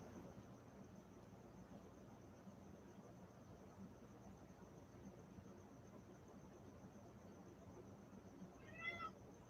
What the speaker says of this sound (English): My cat is yelling at me.